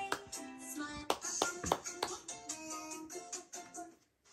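Hands clap at a baby girl's first birthday: a close, uneven patter of small claps and taps, mixed with soft voices and a fading pause at the end.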